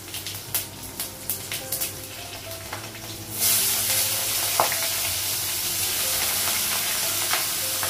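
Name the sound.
panch phoron and green and dry chillies sizzling in oil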